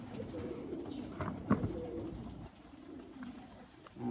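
Chapray pigeons coo softly in repeated low, throaty phrases, faint and nearby, with some background rustle and a brief knock partway through.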